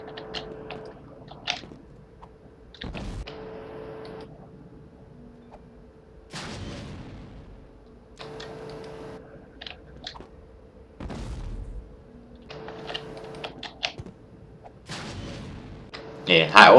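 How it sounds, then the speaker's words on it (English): Sticky grenades burst repeatedly from rooftops on Cloud City in a shooter video game, a series of sharp, fairly faint explosions spaced a few seconds apart over a low game background. "On Cloud City, you can also do sticky grenades from on top of buildings"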